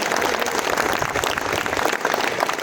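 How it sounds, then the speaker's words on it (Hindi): Audience applause at a Sleepwell Foundation Day celebration in Jalpaiguri, a dense, steady wash of clapping that carries on evenly for the whole stretch. "ज़ोरदार तालियां प्लीज़ आज की इवेंट के लिए"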